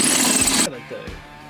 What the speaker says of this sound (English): Back to drilling.